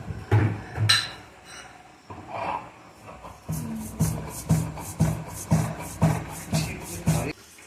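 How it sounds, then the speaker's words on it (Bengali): Poppy seeds are ground into a paste by hand, heard as a steady series of rhythmic rubbing strokes, about one per half second, near and moderately loud after a few scattered scraping sounds. "আমি একটু পোস্ত বেটে নিচ্ছি"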